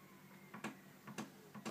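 Faint, rhythmic mechanical clicks and ticks from a 3D printer making strange noises repeat about every half second, soft and close in a quiet room.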